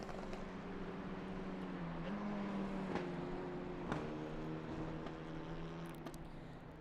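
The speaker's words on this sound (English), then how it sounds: "Listen to those little Clio engines roar around these turns." Renault Clio Cup race cars drone around the track at Silverstone, a steady buzzing engine note that shifts pitch through the turns, heard from a distance and fairly faint.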